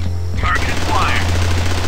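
Rapid automatic gunfire from the video game SWAT: Global Strike Team, a short burst that cuts in sharply and carries on loud under the game's sounds, with a voice briefly heard.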